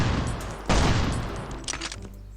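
Rapid gunfire erupts in Last Island of Survival, a loud close burst of shots followed by a few scattered, fading reports and softer clatter.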